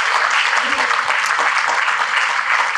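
Audience ovation at the finale of a rail innovation pitch competition, with sustained, dense clapping and some cheering filling the room at steady volume throughout.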